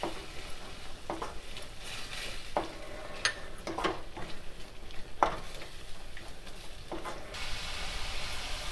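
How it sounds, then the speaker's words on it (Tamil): Spices stirred into frying chilli idli masala in a pan: a steady close sizzle with repeated scraping spatula strokes and occasional clinks against the pan, no talking. "Garam masala powder, chilli powder கொஞ்சம் சேர்த்து எல்லாம் மிக்ஸ் பண்ணிக்கலாம்."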